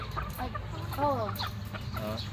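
Hens and a brood cock cluck and call in a steady farmyard chorus, several birds close by with a constant low background hum.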